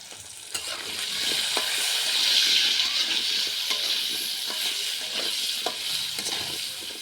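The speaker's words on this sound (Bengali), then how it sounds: "লাল লাল করে সুন্দর করে আলুটা আমি ভাজে নেব" Potato pieces fry in hot oil in a pan with salt and turmeric, a steady dense sizzle and crackle that holds for the whole stretch, close and fairly loud, with occasional stirring clicks.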